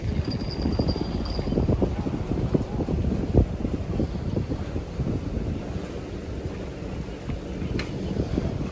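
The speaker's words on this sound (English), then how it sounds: "it's so windy out here." Steady wind roars and buffets the microphone throughout, a continuous low rumble with gusts, heard alone without voices.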